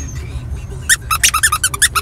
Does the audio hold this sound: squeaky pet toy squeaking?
yes